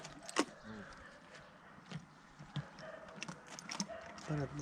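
Stallion hooves clip-clopping on a hard surface in an irregular rhythm, moderately distant, with people talking nearby, among draft horses in Ukraine.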